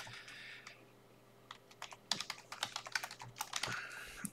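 Fingers type an email address on a computer keyboard, with rapid close clicking keystrokes in uneven bursts over a faint steady hum.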